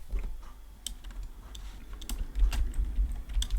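Quick, uneven clicking of keys as title text is typed on a computer keyboard for a coding lesson, close and clear with no voices.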